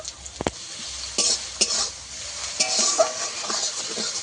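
Onion fries in a pan until browned for an egg curry, hissing steadily while a utensil scrapes and taps against the pan in quick, uneven strokes, close and alone.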